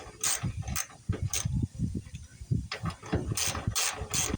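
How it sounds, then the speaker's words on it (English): Hand ratchet loosening bolts on the fuel sending unit of an F250/F350 dump body, rapid clicking pawl bursts in a repeated back-and-forth rhythm, close up and alone. "Now I'll go around and loosen up all these bolts."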